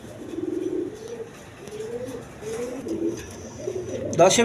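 Pigeons for sale, including a pair of Black Diamond birds, coo in repeated soft, throaty phrases close by, with a few chirps and a sharp noise near the end.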